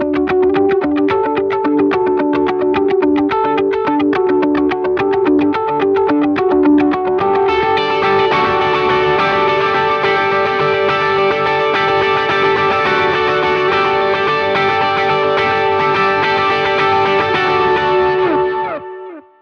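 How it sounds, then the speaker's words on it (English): Guitar played through a clean, bright digital delay pedal, picked notes ringing with repeating echoes that thicken into a dense, sustained wash halfway through, loud and steady with no talking. "here is what the digital delay sounds like"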